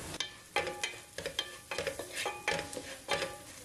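Turmeric, chilli powder and garam masala sizzle in a pan while a spoon stirs them in quick, rhythmic scraping strokes, close and fairly quiet.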